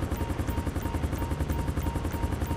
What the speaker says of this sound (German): Schaffen wir es vielleicht diesmal auf dem Heli-Panel zu landen?